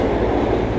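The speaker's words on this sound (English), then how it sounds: "I can hear the subway delays already down there." A New York City subway train rumbles below the street in Manhattan on a weekday evening, a steady, loud low roar with faint rhythmic wheel clatter, no voices.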